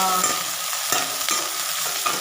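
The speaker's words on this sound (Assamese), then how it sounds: "এয়া পিঁয়াজ দিয়া হৈছে, আৰু পিঁয়াজৰ লগতে আমি দিম নহৰু আৰু আদা বটা" Chopped onions sizzle in hot oil with garlic and ginger paste, a bright, crackling fry broken by a few sharp spoon scrapes as the pan is stirred.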